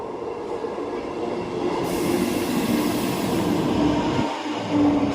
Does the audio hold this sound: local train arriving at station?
yes